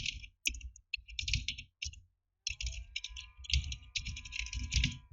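Keys tapped on a computer keyboard while an email address is entered, quick close clicks in short clustered bursts separated by brief pauses, quiet and alone.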